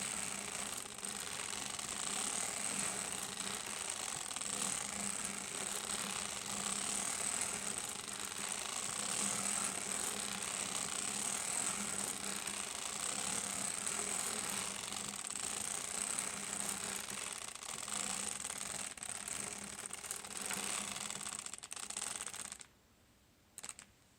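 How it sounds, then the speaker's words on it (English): Hand-cranked circular sock knitting machine knitting rows of plain knit, a steady dense mechanical clatter of needles and cams running continuously up close, stopping abruptly near the end. "My first step is to crank 12 rows of plain knit."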